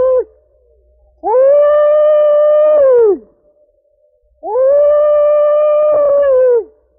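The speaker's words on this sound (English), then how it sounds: "What does a winning hog caller sound like?" Winning hog caller's hog call, two long, loud, sustained whooping cries, each held for about two seconds and separated by a short pause, ringing out clearly with no other talk.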